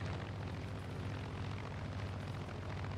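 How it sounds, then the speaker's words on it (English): Steady, continuous drone of a small airplane's engine on approach to land in Far Cry 5, loud and close with a constant low rumble throughout and no talk. "Oh, this is gonna be an easy landing."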